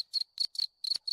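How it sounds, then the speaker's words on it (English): A cricket sound effect played from a Discord soundboard chirps in short, rapid bursts of high, shrill trills, about five quick pulses in a regular rhythm, clear and isolated with no talk. "If not, there's a cricket."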